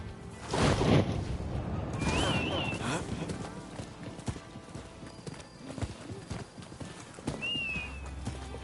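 Hooves clip-clop on a hard surface at close range in an uneven rhythm, with a person talking softly over them and occasional rustling.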